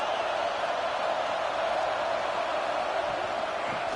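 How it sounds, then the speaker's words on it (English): Steady, dense roar from a football stadium crowd during a Tennessee versus Oklahoma game, a continuous loud wash of noise with no breaks throughout. "Listen to this crowd just shaking the girders of this place, trying to help their defense."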